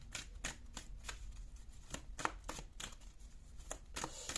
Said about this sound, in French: je brasse déjà les cartes